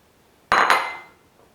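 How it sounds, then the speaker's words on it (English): Soft brown sugar tipped into a mixing bowl for chocolate chunk cookies lands as a single close, bright burst with a light clink, then fades into a short rustle before silence. "So in I go with the soft brown sugar."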